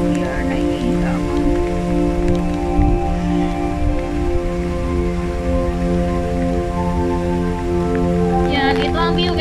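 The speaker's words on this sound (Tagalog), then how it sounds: "Yan guys, malakas na ulan." Heavy rain pours steadily with a constant hiss of drops on surfaces, a tonal mechanical hum running beneath it and a brief voice near the end.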